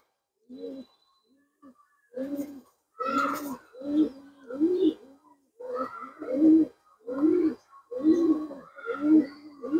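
Repeated soft, throaty pigeon coos in a steady series of bursts, fairly close and clear, with no talking.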